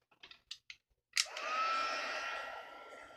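A few light clicks and taps come first. Then a heat tool whooshes on and blows a steady, airy hiss close by as it melts embossing powder for a Halloween eyeball craft.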